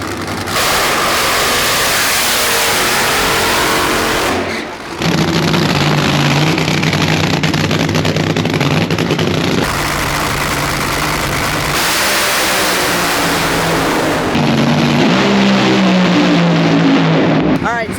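An NHRA drag racing car at the Winternationals roars down the track, a loud sustained engine drone with several abrupt shifts and pitch changes. It carries on for a long stretch, close and intense.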